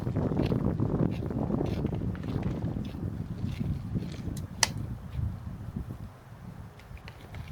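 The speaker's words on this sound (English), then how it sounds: "Ooh, windy." Wind blowing outdoors, a steady low rumble of gusts buffeting the microphone throughout, with faint scattered rustling and one sharp brief click near the middle.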